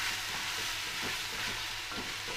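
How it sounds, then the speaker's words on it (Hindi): Coarsely ground green peas roast with asafoetida in a pan over medium flame, giving a steady close sizzle with soft scraping stirs, and no voice over it. "ये देखिए हींग डाल के इसको अच्छे से भून लेंगे"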